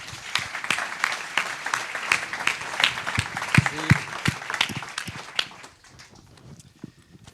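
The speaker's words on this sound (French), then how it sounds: "Je vous demande de l'applaudir." Applause from a conference audience at a climate talk, a lively patter of many hands that builds, stays busy and then thins out to scattered claps near the end.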